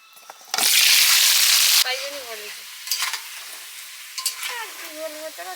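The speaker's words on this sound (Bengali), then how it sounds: "সর্ষের তেলে আলুটা ভেজে নিচ্ছি" Potatoes drop into hot mustard oil with a loud burst of sizzling that settles into a quieter, crackling fry, with a few clinks and soft tonal sounds around it.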